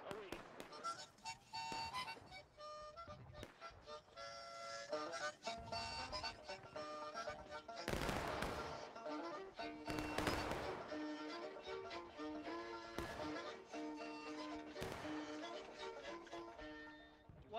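Musket gunfire in the Civil War video game War of Rights: loud, sharp shots ring out around 8 and 10 seconds among scattered other reports, over a busy, layered battlefield bed.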